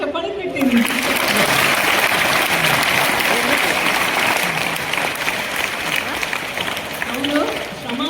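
Students clapping loudly for their teachers at a school kitchen inauguration, a dense, close crowd of hands ringing out continuously with some voices mixed in underneath.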